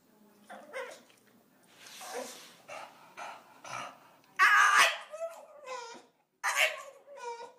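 A dog barks, yips and whimpers excitedly in short irregular bursts close by, with a person talking to it in between.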